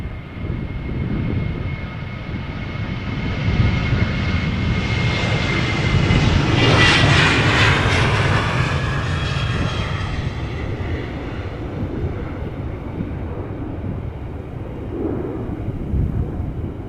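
A TUI airliner on flight 605 at Amsterdam Schiphol Airport roars loudly past, its jet engine rising to a broad peak midway and then fading into a long rumbling tail.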